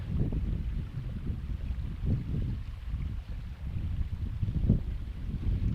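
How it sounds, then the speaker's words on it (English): Blustery wind buffeting a microphone on an open hillside beside a burn, loud low rumbling gusts surging and easing continuously, with stronger puffs around the middle and toward the end. "Waiting on that puff of wind going past so you can hear me."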